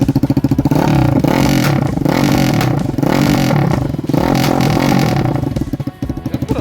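A Lifan KP Mini 300 motorcycle with a swapped ZS175FMN 4-valve engine idles loudly and steadily up close, with a clattering, rapid-fire exhaust that wavers slightly before dipping and stuttering near the end.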